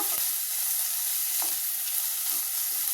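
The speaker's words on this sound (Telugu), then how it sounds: "కొంచెం సేపు యాగనిద్దాం స్వీట్ కార్న్ని." Sweet corn kernels fry in a pan, giving a steady, close hiss of sizzling oil with a few faint scrapes from stirring throughout.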